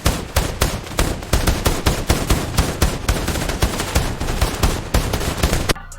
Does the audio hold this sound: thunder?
no